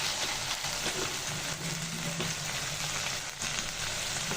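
Chicken frying with raw spices, bay leaf and cinnamon gives a steady, moderately loud sizzle with faint stirring scrapes, alone without talk.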